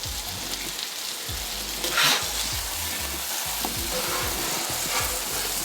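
Bacon frying on a Blackstone griddle, a close, steady crackling sizzle with popping spatters and scraping spatula strokes, one brighter hiss burst near two seconds.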